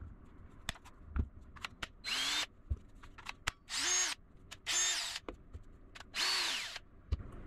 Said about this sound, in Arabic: هل راح يعمل دريل؟ نعم.